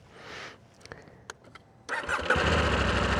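A KTM 890 Rally motorcycle engine cranks and catches after a few quiet clicks, then settles into a loud, steady close-up idle.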